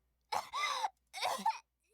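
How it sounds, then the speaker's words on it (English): Character in the Chaos;Child visual novel coughing, two harsh, strained bursts close up separated by a short pause, alone in silence. "Serika wouldn't stop coughing."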